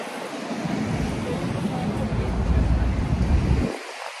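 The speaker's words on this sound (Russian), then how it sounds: "что тут ветрено" Strong wind blows steadily outdoors, a dense roaring rush buffeting the microphone for several seconds before dropping away abruptly near the end.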